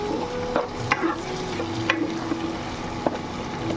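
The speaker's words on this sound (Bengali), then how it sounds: "এখানে পেঁয়াজ বাঁধাকপি ডিম ফ্রাই করে নিয়েছি" Onion, cabbage and egg stir-fried in a pan, a steady sizzle with scattered scraping clicks of the spatula, close and continuous without talk.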